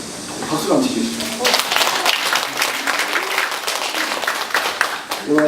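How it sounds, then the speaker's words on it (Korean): An audience at a Buddhist lecture bursts into sustained applause, many hands clapping densely for several seconds, with a speaker's voice heard just before the clapping builds. "박수 한번 치십시오."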